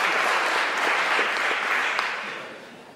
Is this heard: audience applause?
yes